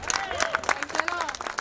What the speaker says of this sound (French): Merci aussi à nos musiciens ici présents. On va les présenter, on peut les applaudir.